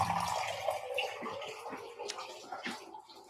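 Tap water runs for a wrap recipe, a continuous rushing flow into a container with brief splashy bursts, close and fairly loud, fading slightly toward the end.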